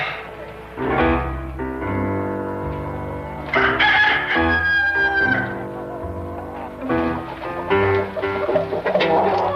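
A rooster crows and chickens cluck loudly and close by on a ranch, with several overlapping calls across the stretch and no talk.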